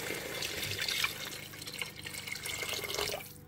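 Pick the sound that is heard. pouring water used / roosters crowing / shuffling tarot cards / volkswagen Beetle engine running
pouring water used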